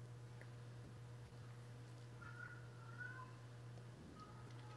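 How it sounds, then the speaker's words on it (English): A house cat meows a few times in the background, faint and high, over a steady electrical hum with no talking. "my cat is just losing its mind"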